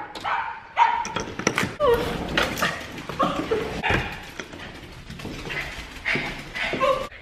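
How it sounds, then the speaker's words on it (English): Excited dogs at home barking, yipping and whimpering in a busy, overlapping jumble of close, loud barks and high-pitched whines throughout. "The dogs are freaking out."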